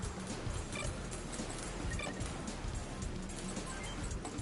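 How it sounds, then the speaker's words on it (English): Donkey hooves clip-clopping in the Front Mission 1st Remake video game, a steady rhythmic patter of hoofbeats with a few sharper knocks over a dense, continuous game soundtrack. "There's the donkey."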